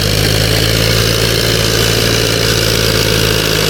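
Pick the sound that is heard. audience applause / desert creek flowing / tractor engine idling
tractor engine idling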